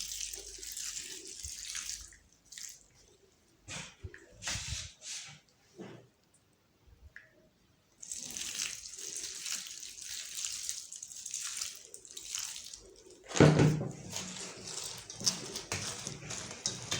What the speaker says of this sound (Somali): biyo yara kulul baynu ku maydhnay